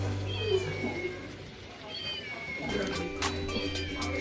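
Repeated high mechanical meows from a toy cat sound over a steady electronic hum, with some background chatter.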